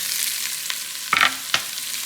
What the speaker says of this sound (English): I'm going to put the onions in to the silver pan